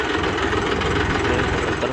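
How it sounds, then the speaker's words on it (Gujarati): A motorbike engine running on a highway, a loud continuous drone with rough mid-range rumble and wind buffeting, steady and close throughout. "આપણે હાઈવે રોડ ઉપર આવી ગયા છીએ બાઇક લઈને આવી ગયા છીએ"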